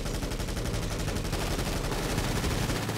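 Sustained rapid automatic gunfire in GTA rattles nonstop for the whole stretch, dense and loud, a continuous barrage fired at a van with no talking over it.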